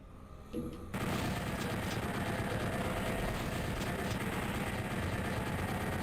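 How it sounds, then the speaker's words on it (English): Rapid, dense gunfire from the Doom video game, played with the Unseen Evil mod against a Baron of Hell, erupts after a brief quieter opening and then continues as a loud, continuous barrage. "Oh no, getting shot 50 times in the face."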